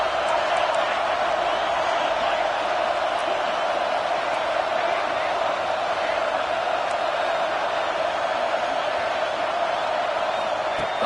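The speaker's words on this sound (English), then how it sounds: "this crowd coming to life here, trying to help the defense get a stop" A football stadium crowd roars steadily for the defense during an Oregon vs Oregon State game. The dense, continuous wall of cheering runs under a commentator's voice.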